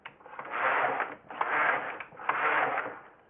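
A Passap knitting machine's lock sliding across the needle bed in three long, steady mechanical passes, each a rasping whir with brief pauses between, close and fairly quiet with no talking.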